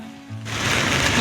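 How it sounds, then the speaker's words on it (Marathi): Rain falling outdoors during a commute, starting quietly and then swelling into a dense, steady patter on surfaces that grows louder toward the end. "आता परत थोडा पाऊस."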